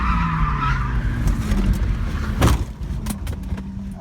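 BMW E36 drift car skidding during a drift event crash: loud engine roar with tyre squeal and skidding, then a sharp impact-like burst midway followed by rattling clatter, close and with no talking.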